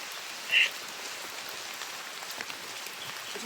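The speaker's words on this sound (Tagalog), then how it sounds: "Grabe ng ulan mga tol." Steady rain falls in a broad, even hiss, with scattered drops pattering on a surface and one brief sharper tap early on. No one speaks.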